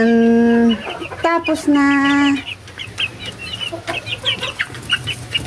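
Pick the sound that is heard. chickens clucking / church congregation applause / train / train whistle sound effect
chickens clucking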